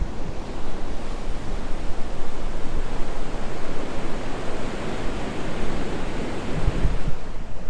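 Fresh river water rushing out into the sea at the Warren River crossing, a steady loud broadband wash of flowing water and surf that runs unbroken from start to finish with no voices.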